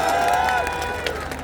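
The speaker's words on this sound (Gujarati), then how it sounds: "ખૂબ તાળીઓથી વધાવીએ." A rally crowd at a large community convention cheers and applauds as a leader arrives, a dense, loud wash of clapping and voices that fills the whole moment.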